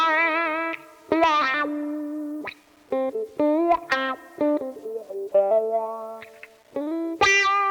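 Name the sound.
electric guitar wah pedal accenting notes in melodic phrase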